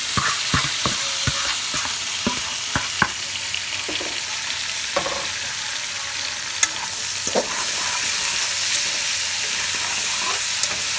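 Vegetables fry and get stirred with Jamaican corned pork in a hot pan, a loud continuous sizzle broken by scraping stirs and knocks of the spoon, busier at the start and steadier later.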